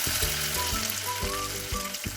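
Chopped tomatoes fry in a pan with mutton liver, sizzling loudly and continuously with a bright crackling hiss throughout.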